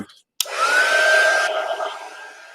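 Steady, loud rushing blow of an embossing heat tool switching on and running close by as it heats embossing powder, a continuous airy whoosh with a faint whine and no talking.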